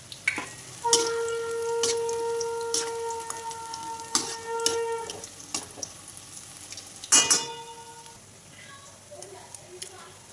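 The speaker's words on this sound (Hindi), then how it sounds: "मैंने वापस अपने पकोड़े तलने शुरू कर दिए" Pakoras deep frying in hot oil give a steady soft sizzle, broken by sharp clinks and scrapes of utensils, with a sustained tonal hum running through the first half.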